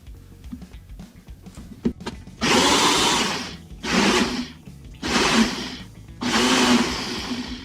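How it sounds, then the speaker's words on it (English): A kitchen blender whirs loudly in four separate bursts, each a few seconds long with short pauses between, after some quiet handling noises. "Gonna put the blender on."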